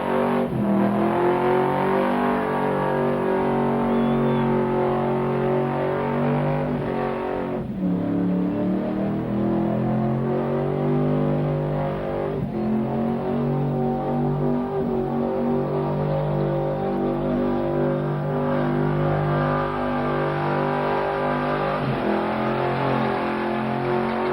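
A car doing burnouts on a donut pad at a car show, engine held at high revs in a loud continuous drone with tyre roar, dipping briefly a few times before climbing again.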